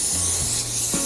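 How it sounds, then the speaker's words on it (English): Olive oil spraying from a can onto a small sheet pan, a brief close hiss lasting about a second with a low hum underneath. "We'll spray some olive oil at the"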